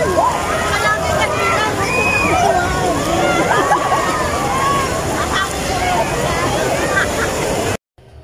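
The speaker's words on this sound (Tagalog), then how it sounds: "Ano masasabi mo dito sa wave pool?" Water sloshing and splashing in an outdoor wave pool at night, a steady loud wash with crowd babble and voices talking over it, cutting out abruptly near the end.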